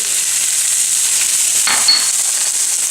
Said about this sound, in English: This is 1 pound of ground beef, straight in, hot pan. I'm going to brown this up.